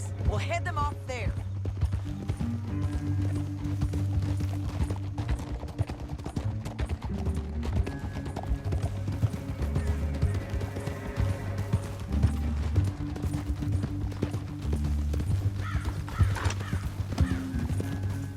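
Horse hooves clip-clop steadily in Red Dead Redemption 2, over the game soundtrack with music, a brief whinny near the start.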